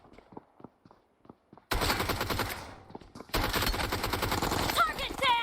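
Automatic gunfire from the mobile game PUBG Mobile, starting with faint distant pops, then two loud, dense bursts of rapid shots separated by a brief pause, with a voice speaking over the game.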